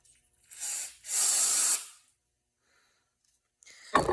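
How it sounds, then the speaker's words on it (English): Aerosol carb cleaner sprayed into a car's idle air control passage: two close hissing bursts, a short one then a longer steady one, followed by silence and a sudden clatter at the end. "Just spray it in there."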